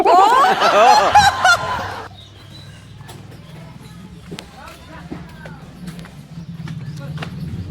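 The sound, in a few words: rooster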